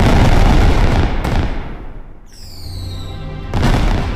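Fireworks in the Frieren anime during a celebratory parade burst loudly as booming cracks, then ease into a quieter stretch with whistling high tones before another loud burst near the end.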